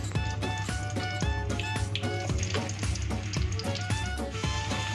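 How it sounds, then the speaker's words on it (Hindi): Halved potatoes frying in ghee, a dense crackling sizzle with rapid popping bursts over a steady hum, loud and close throughout. "अब मैं इन्हें फ्राई कर रही हूँ"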